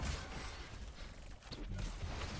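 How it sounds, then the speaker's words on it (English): A default horse mount in the Heroes of the Storm video game, with a brief whinny and hoof sounds against a dense, noisy match backdrop. "we got a Blaze on a default horse here"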